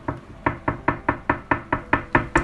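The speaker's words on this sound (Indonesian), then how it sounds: "Dengan tangan kanan, buatlah gerakan mengetuk sebanyak mungkin dalam periode waktu singkat." Fingers of the right hand tap rapidly on a hard surface, about eleven crisp knocks in an even, quick rhythm, close and with no other sound.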